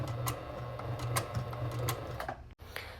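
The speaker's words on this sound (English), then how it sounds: "Then sew along the 3/8 seam mark." A sewing machine stitches a 3/8 inch seam on a flap pocket, its steady mechanical whir and repeated ticking running close and continuous before a brief pause near the end.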